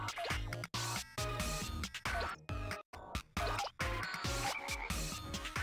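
Frog croaking in Katamari Damacy Reroll, loud repeated croaks in a quick uneven rhythm with brief gaps of silence between them.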